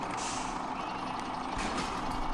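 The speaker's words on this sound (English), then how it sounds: "I'm going to drop it off and just push the truck through into the gap in the front there" A truck in Farming Simulator 17 reverses over a steady engine rumble, with a faint run of reversing beeps and a brief hiss of air brakes, heard close and without talk.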